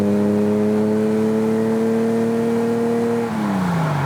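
A carbureted Ferrari Daytona engine holds a loud, steady rev, a strong droning tone sustained for several seconds before it drops as the throttle eases off.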